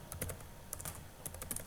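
Keys clatter on a computer keyboard as values are typed in, short irregular bursts of clicks close by with brief pauses between them.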